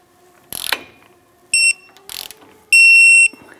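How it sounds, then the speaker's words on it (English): Torque wrench tightening the lower ball joint on a 2008-2013 Nissan Rogue to 46 foot-pounds: two short ratcheting bursts alternate with two loud, steady electronic beeps, the second beep long and sustained, heard up close with no talking. "Torque our lower ball joint to 46 foot-pounds."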